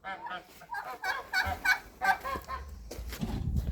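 Geese honk several times in short nasal bursts nearby while grazing alongside turkeys, with some low background rumble and shuffling toward the end.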